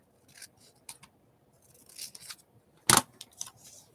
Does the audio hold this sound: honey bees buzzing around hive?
no